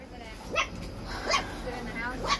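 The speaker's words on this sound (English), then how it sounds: "Listen to that little bark." A small puppy gives three faint, high little yips about a second apart over a low background murmur.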